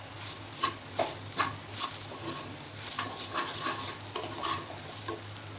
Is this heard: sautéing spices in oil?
yes